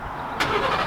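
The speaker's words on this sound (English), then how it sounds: "God bless remote start." A Chevrolet Camaro ZL1 engine cranks and fires up by remote start, with a sudden burst at the start followed by a steady rumbling idle, heard at moderate distance outdoors.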